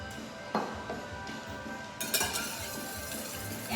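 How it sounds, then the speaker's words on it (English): Olive oil and mustard are whisked for Brussels sprouts, giving quiet, close clinks and light scraping of a utensil against a bowl, with a brief sharper knock partway through. "And I'm going to whisk that."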